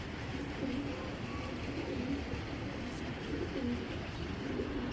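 Pigeons coo softly in repeated low, throaty phrases over a steady background hum, fairly close but not loud.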